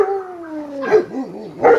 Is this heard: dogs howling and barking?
yes